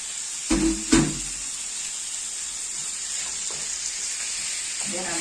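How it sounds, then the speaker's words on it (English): Minced meat and tomatoes sizzle steadily in a hot pan, a constant bright hiss with two short clattering stirs near the start and another toward the end, close and moderately quiet. "You can hear the sizzle."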